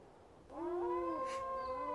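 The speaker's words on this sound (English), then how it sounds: "He howls to keep our pack together." A gray wolf pack leader gives a single sustained howl that rises and then holds a long, clear note. It is loud and close and comes alone after a quiet start.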